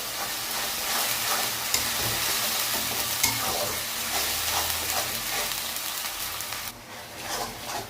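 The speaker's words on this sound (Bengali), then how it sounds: "দিয়ে এটাকে ভালো করে আমরা কষিয়ে নেব যতক্ষণ তেল ছাড়া উঠবে।" A ginger, onion, garlic, cumin and green chili paste sautés in oil for mutton ghugni, giving a close, continuous sizzle with rhythmic scraping and stirring strokes, then a brief lull near the end; nobody speaks.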